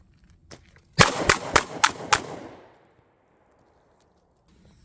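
Five sharp, loud gunshots from a Smith & Wesson 637 Airweight .38 Special snub-nose revolver fired one-handed double action in quick succession, each crack echoing and decaying outdoors after a faint click beforehand.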